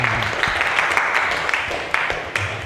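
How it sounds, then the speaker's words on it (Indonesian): A class of students gives a short round of applause, a moderate, steady patter of many hands with a few louder individual claps standing out. "kasih tepuk tangan yuk"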